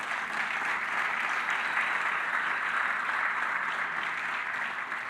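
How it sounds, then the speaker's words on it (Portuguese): A church congregation applauding during a sermon, a sustained wash of many hands clapping together at an even level throughout. "Você pode aplaudir a Deus por isso?"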